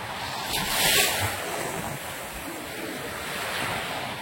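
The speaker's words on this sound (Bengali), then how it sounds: "পাহাড় সাথে সমুদ্র।" Sea surf washes onto the shore at Yarada Beach near Visakhapatnam, with wind buffeting the microphone in a steady roar that swells and eases, heard alone.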